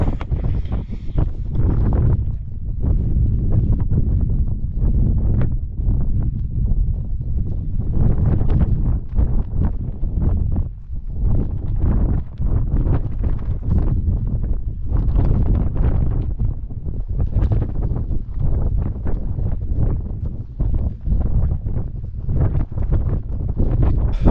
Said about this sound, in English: Walking along the Cam West Road, quite windy.